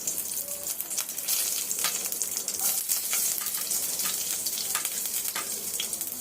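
Curry leaves crackle and sizzle in hot oil in a kadai, a loud, close, continuous spitting hiss with sharp pops scattered throughout and no voices.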